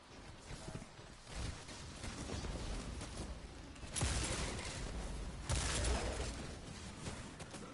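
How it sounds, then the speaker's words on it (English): Slug shotgun fired in the video game Destiny 2, with two heavy booming shots standing out from a dense, continuous game soundscape of rumble and clatter. "So this is just a slug shotgun."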